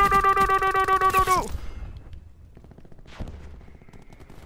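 Automatic rifle fire in Call of Duty: Black Ops 4, a loud rapid burst lasting just over a second, then quieter game effects and a faint whoosh.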